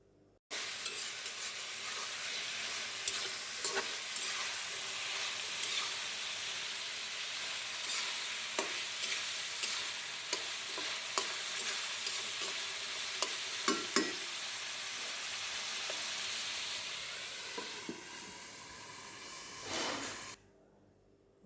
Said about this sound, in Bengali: এই যে জিরের গুঁড়া ধনের গুঁড়া দিয়ে একটু নাড়াচাড়া দিয়ে কষাবো।